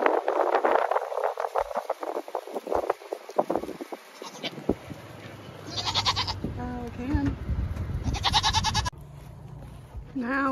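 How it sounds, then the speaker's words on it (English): Farm goats bleat in a few wavering, nasal calls, near and fairly loud, following earlier voices and general farmyard background noise. "The goats are anxiously waiting for our arrival."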